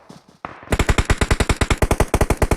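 Rapid automatic gunfire from a multiplayer shooter video game scrim: a few soft shots, then a long, steady burst of evenly spaced, loud reports firing close up, with no voices.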